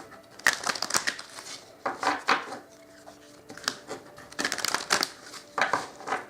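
Tarot cards are shuffled by hand in a series of short, close riffling bursts separated by brief pauses, crisp and papery against a quiet room.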